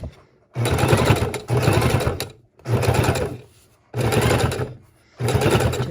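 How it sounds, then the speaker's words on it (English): A sewing machine straight stitches a pocket onto a junk journal page in five loud, close bursts of rapid clatter, each lasting about a second and separated by short silent pauses. "Just using the straight stitch, locking it down."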